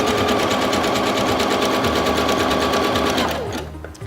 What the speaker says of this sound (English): My machine is sewing at its lowest speed right now